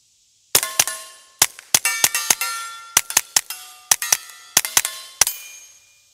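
A Kel-Tec P17 .22LR pistol fitted with a suppressor firing subsonic ammunition outdoors, about sixteen sharp muffled cracks in quick irregular bursts, each with a metallic ringing clang, loud and close, no talking.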